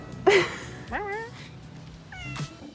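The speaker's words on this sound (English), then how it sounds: "Just over here having a full-on conversation with a cat." A cat on a Seoul street meows three times with pauses between, the first loud and close, the later two softer and drawn out, with faint background noise.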